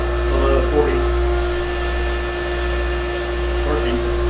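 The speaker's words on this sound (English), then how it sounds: "that's the boost jet pump turning on right now because the pressure got below 40" Boost jet pump of a well water system running, a steady mechanical hum with a constant tone, fairly loud and continuous throughout, with faint background sounds but no clear talk.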